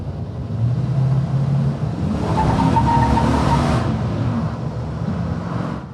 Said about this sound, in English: You really hear more motor than you do exhaust.